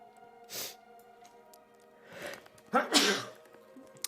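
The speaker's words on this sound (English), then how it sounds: "Big sneeze." A person sneezes loudly and close up, a burst preceded by a shorter breathy intake, set over a soft steady game-music hum from World of Warcraft Classic.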